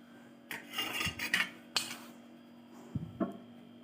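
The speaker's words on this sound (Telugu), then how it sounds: "కొంచెం అల్లం ఒకసారి మంచిగా మిక్స్ చేసుకుంటూ ఫ్రై చేసుకుంటూ ఉండాలి." A spatula stirs onions and ginger frying in a pan, producing scraping strokes and metallic clinks in a few short bursts against a steady faint hum, close and fairly quiet, with no talking.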